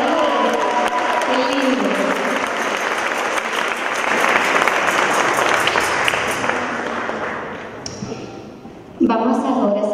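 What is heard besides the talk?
concert audience applause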